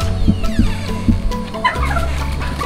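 A flock of chickens clucks and calls close by, several short bursts over steady background noise, with no talk.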